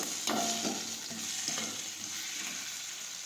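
Moraiya khichdi is stirred in a pan over a steady, fairly loud sizzle, with a few brief spoon scrapes near the start and no talking.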